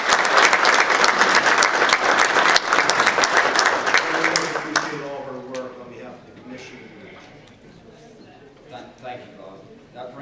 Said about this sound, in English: So if you could please join me in a quick applause.